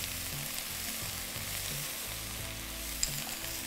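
Fenugreek leaves fry slowly in ghee with a steady, close sizzle and soft crackle, a low hum underneath and one small click near the end.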